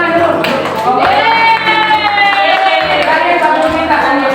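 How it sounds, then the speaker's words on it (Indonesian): A classroom group applauds at the teacher's request during a microteaching lesson, with loud, dense clapping mixed with children's shouts and cheers throughout. "Tepuk tangan dulu."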